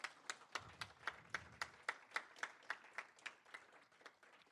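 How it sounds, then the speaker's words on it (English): A small audience at a college security club meeting claps for the sponsors, the sound thinning to a sparse, rhythmic patter of distinct individual claps, fairly close and fading slightly toward the end. "Clap it up for the sponsors."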